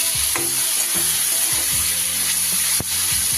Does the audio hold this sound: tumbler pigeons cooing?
no